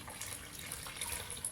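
Lukewarm tap water poured into bread dough by hand, a steady soft splashing and trickling flow, faint and continuous.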